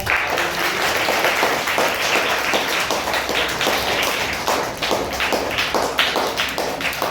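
Loud, dense applause from a group of students in a class, steady clapping filling the whole stretch with no pauses.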